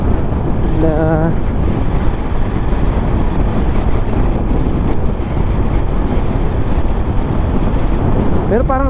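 Honda ADV 160 scooter, stock, ridden flat out toward top speed on the road, a steady roaring wind-buffeted rush of engine and air throughout, with brief voice fragments near the start and end.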